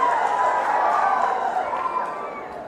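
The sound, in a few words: audience clapping loudly at a political speech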